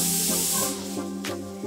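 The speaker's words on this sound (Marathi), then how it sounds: "बघू शकता तुम्ही, पाणीला उकळी आली आहे।" A pot of water boils for wheat kurdai, giving a loud, close hiss of steam and bubbling that fades after the first half-second and then swells again briefly.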